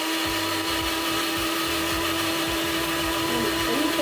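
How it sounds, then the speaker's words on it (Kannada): A kitchen mixer grinder whirs steadily as it blends chopped muskmelon into juice, a loud continuous motor drone running alone throughout. "ಇದನ್ನು ಮಿಕ್ಸಿನಲ್ಲಿ ಹಾಕಿದ್ದು ಎಷ್ಟು ಇಮಿಡಿಯೇಟಾಗಿ ಆಗೋಗ್ಬಿಡುತ್ತೆ"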